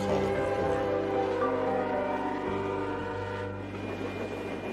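Train horns sound as one steady, loud, sustained multi-tone blast with a rumbling low base, holding continuously for several seconds without pause.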